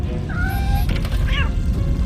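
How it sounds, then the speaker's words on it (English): A cat meows twice in the RoboCop Rogue City video game, two short rising-falling cries close by over a steady low rumble of game ambience. "There's a cat."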